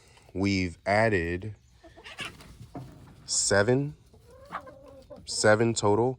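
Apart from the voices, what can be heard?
chickens clucking, hens and a rooster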